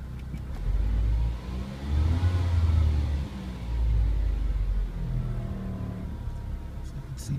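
A Saturn SL1 sedan engine with its check-engine light on is revved in bursts: a low, throaty rumble rising and falling through three or four surges, close by and loud, with no talking over it.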